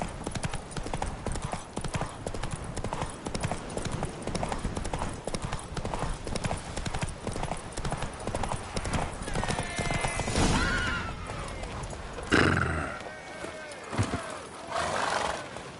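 Horses gallop in a race in The Witcher 3 game, a fast rhythmic clatter of hooves running nearly continuously, with whinnies and snorts breaking in near the end and a voice speaking briefly.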